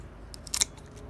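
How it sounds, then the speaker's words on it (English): A two-year-old fig cutting is trimmed at a 45-degree angle at its base, giving a quick, close pair of crisp snips with faint clicks around them. "We're going to make a 45-degree angle cut at the bottom of this cutting."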